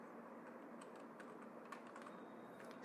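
Quiet, scattered keystrokes tap on a computer keyboard while a name is entered into a spreadsheet's name box, soft clicks spread unevenly over a faint steady background hum.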